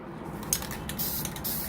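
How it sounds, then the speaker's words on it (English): A handheld sprayer gives a few quick, soft spray bursts close by, short hissy puffs with no voices. "So this is definitely not the sprayer I want, but it'll do for now."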